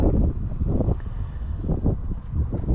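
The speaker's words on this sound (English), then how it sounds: "It's a bit windy" Wind gusts buffet the microphone outdoors during a drone flight, a low irregular rumble that pulses for a few seconds with no voices.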